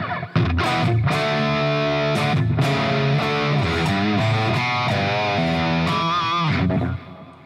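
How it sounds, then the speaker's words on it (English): Electric guitar through the crunch channel of a Hughes & Kettner Black Spirit 20 amp, humbucker pickup with boost engaged, plays loud, sustained distorted chords and riffs that ring out steadily, then stop abruptly near the end. "Crispy sound. Back to the humbucker."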